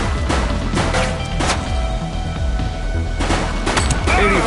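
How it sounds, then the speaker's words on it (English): A fleeing suspect fires at police in The Precinct video game, giving several sharp, loud gunshot bursts scattered through dense, chaotic action noise. "He's shooting!"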